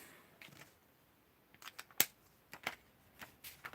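Scissors snip through patterned cardstock at a craft table, a handful of short, crisp cuts coming close and clear after a quiet start.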